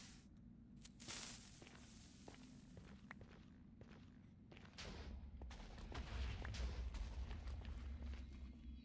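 Minecraft explosions tearing through gravel, a run of sharp blasts and crumbling crunches coming at an irregular pace, with a deeper rumble building in the second half.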